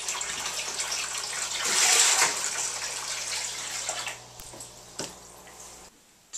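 Water pours steadily from the outlet of an Emperor Aquatics Smart UV Sterilizer, 40 watt, a close, continuous rushing splash that swells briefly and then settles before cutting off at the end.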